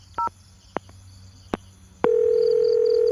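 A phone redialing after a dropped call, a short keypad beep and a few sharp clicks, then a steady continuous tone switching on and holding to the end, close and clear with no voices.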